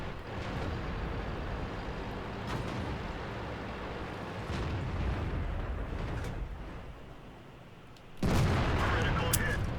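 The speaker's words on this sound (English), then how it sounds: "Was that an armor piercing round?" An armor-piercing tank shell hit in World of Tanks, a sudden loud heavy boom that cuts in near the end over low rumbling battle ambience.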